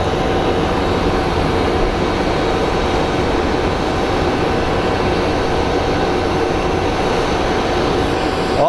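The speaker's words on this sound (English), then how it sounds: "we are gonna get a takeoff from this side" A jet airliner taking off at Phoenix Sky Harbor airport gives a steady, loud engine roar with a faint high whine, constant for the whole stretch and with no speech.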